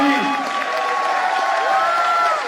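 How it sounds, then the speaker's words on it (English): Audience applause for comic artist Jim Lee at Comic Con Paris: a dense, continuous crowd clapping with some cheering and whistles, steady and fairly loud throughout. "Les amis, je vous demande d'applaudir encore une fois"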